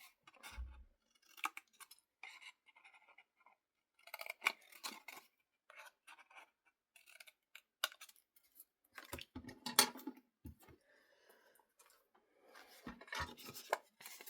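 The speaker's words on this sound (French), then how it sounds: "On va venir découper nos petits carrés ici." Scissors cutting small squares of paper for a scrapbook mini album, a series of quiet, crisp snips and paper rustles in irregular clusters, close to the microphone with no talking.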